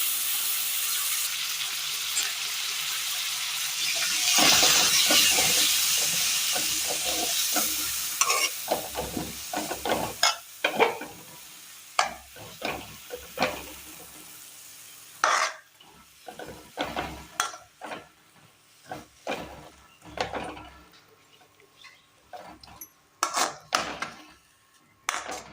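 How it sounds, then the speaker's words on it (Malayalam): Chopped banana stem for a Kerala curry sizzles in a pan while a spoon scrapes and stirs it in repeated clanking strokes, with a steady frying hiss underneath. "ഇനി ഇതിലേക്ക് നമ്മൾ കഴുകി മാറ്റി വെച്ചിരിക്കുന്ന പിണ്ടി അരിഞ്ഞത് ഇട്ട് കൊടുക്കാം."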